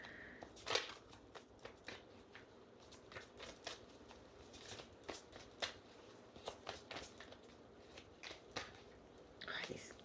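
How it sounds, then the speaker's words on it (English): Tarot cards being shuffled, with soft irregular riffling and sliding bursts near the microphone, mixed with quiet whispered speech and faint handling noises. "I'm having a hard time shuffling them."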